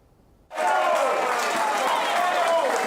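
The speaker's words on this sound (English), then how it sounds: "The live Las Vegas crowd is whipped into a frenzy at the live broadcast of the Dan Patrick Show." Live crowd at a Las Vegas broadcast of the Dan Patrick Show bursts into loud cheering and applause after a near-silent start, sustained and roaring, with voices shouting throughout.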